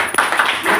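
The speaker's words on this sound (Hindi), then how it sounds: "मैं अगेन चाहता हूं एक बार जोरदार तालियां।" Audience applause at a function inside a stadium, a short burst of clapping rising loudly for under a second.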